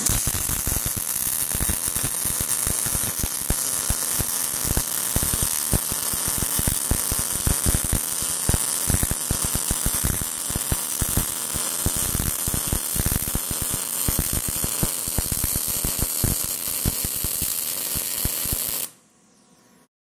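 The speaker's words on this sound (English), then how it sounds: "The Vulcan here set up on auto for 1/4 inch, and we'll weld some beads here" A Vulcan Omnipro 220 welder set on auto for quarter-inch work lays beads with a steady, dense crackling sizzle of rapid pops for about nineteen seconds, then cuts off abruptly into near silence.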